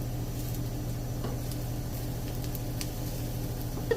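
Curry leaves sizzle in hot oil alongside browning onions in a home curry pan, a steady close crackling hiss that runs evenly throughout with a brief sharper pop at the end.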